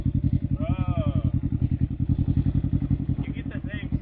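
A Can-Am Ryker motorcycle fitted with a new exhaust idles close by in a deep, rapid, even burble, with a person talking over it.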